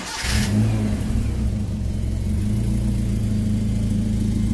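A Suzuki SJ410 engine, freshly fitted with a new fuel pump, catches after a brief burst and revs up, then settles into a steady, close low hum.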